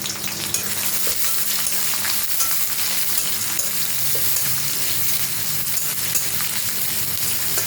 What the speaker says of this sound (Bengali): এইবার আমি কাটা পেঁয়াজগুলো দিয়ে দিলাম সব।